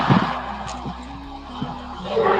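A car passes close by in a home setting, a loud rushing road noise that swells at the start and again at the end, under faint background sounds.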